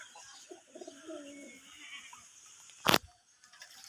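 Two male pigeons scuffle during bath time: soft cooing and low throaty calls, then one sharp, loud burst of flapping wings near the end before it settles quiet.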